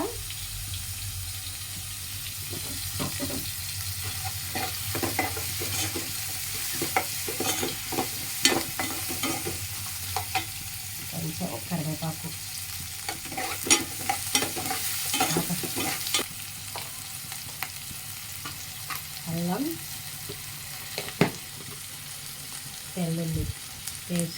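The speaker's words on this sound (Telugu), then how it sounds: "కొంచెం ఫ్రై అయ్యాక జీలకర్ర అయితే వేసుకుంటాను కొంచెం జీరా అయితే వేసుకుంటున్నాను" Onions and cumin seeds fry in a pan, a steady sizzle under repeated stirring and clattering scrapes of a utensil, with occasional splashy bursts and no talk.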